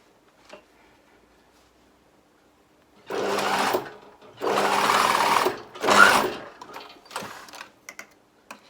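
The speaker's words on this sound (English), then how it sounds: "And then I'm just going to sew that gap closed." A sewing machine stitching a trim seam closed on a jacket, running in three short bursts of rapid, even mechanical clatter with brief pauses between, close and clear against a quiet background.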